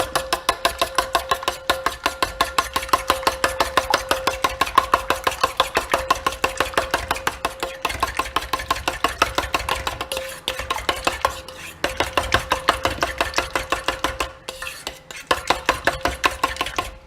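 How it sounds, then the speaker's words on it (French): Fork whisking quiche filling for tomato, ham and cheddar quiche in a bowl, a steady fast run of light clinking taps against the bowl, near and continuous with brief pauses. "On va touiller avec une fourchette."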